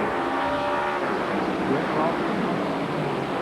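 Race cars at speed after a green-flag restart at Nashville Motor Raceway during a 1993 NASCAR Winston All-Pro Series race, a broad, steady rushing engine roar of the field, loud and continuous with commentary voices faintly underneath.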